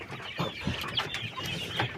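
Caged chickens clucking in close quarters, a steady stream of soft overlapping clucks and low murmurs with occasional sharper calls, close by and moderately loud.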